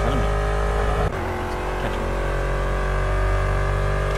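Project CARS race car engines drone loudly and steadily during an online race, a dense high-revving roar with a brief dip around a gear shift or passing car.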